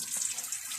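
Tap water running into a pot for boiling a chicken head, a steady hissing gush that fills the whole brief moment with no voices.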